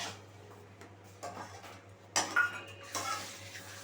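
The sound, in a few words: stirring yogurt into soya palak in a pan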